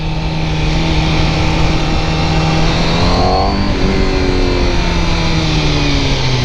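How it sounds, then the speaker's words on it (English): A Honda CBR1000RR-R Fireblade superbike with an Akrapovic exhaust drones loudly and steadily, its tone rising briefly as the revs climb and then settling back to a constant exhaust roar. "when you put that sound coming from the Akrapovic exhaust, which is quite impressive"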